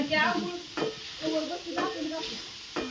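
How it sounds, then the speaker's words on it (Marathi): Tempering spices crackle and sizzle in hot oil in a home kitchen, rising in several loud bursts and settling back to a steady hiss nearby. "माझी गिरवी करायची, फोडणी द्यायची मस्त पैकी."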